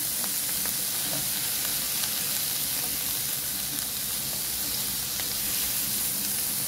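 Igado with sliced carrots crackles in a frying pan, a dense continuous hiss of sizzling that holds steady throughout while the mixture is being stirred.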